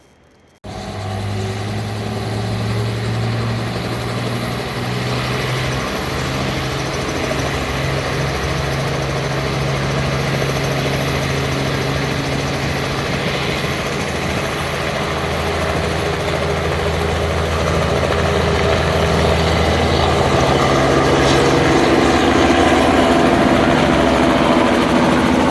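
A tractor engine runs in a shop, starting abruptly and holding a loud, steady low idle for about twenty-five seconds, close by and growing slightly louder toward the end, with no talk.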